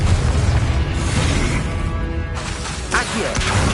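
Spell blasts from Confringo in Hogwarts Legacy on PS5, dense booming explosions with crackling debris, loud and continuous amid a busy flurry of combat effects.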